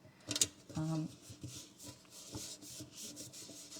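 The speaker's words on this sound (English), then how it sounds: "just rub it on with your plastic and then get your transfer tool" A plastic tool rubs a stencil transfer onto a surface in short, close scraping strokes, faint and uneven, with a quiet voice speaking over part of it.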